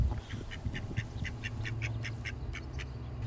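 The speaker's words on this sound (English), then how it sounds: "So the third duck is hatching out of his egg." A hatching duckling gives a string of rapid, evenly spaced peeps or quacks, about a dozen calls, close and fairly quiet over a low background rumble.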